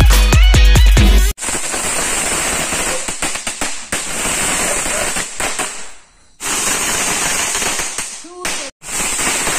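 Firecrackers burst during a Tulsi puja and shop puja celebration, a rapid loud crackling string of pops with a few sharp bangs near the start and brief gaps between volleys.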